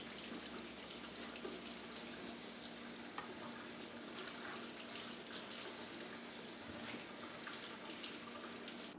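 Water runs steadily from a kitchen tap while vegetables are rinsed, a continuous faint hiss and splash with no talking.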